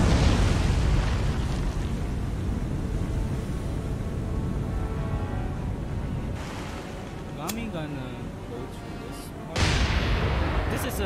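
A torpedo strikes a ship in the naval warfare game War On The Sea, heard as a loud, sustained rumbling explosion with a deep boom that fades, then a second heavy burst near the end, with a voice speaking briefly over it.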